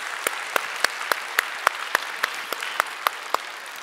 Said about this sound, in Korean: 박수 올려드리도록 하겠습니다.